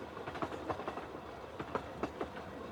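A train rolls through a tunnel in WorldEnd Syndrome, its wheels giving irregular clacks and thumps over a dull, enclosed rumble.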